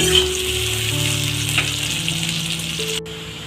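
Onions and two bay leaves frying in oil for a mutton curry give a steady, close sizzle that runs unbroken for the whole stretch, with a faint hum beneath and no voices.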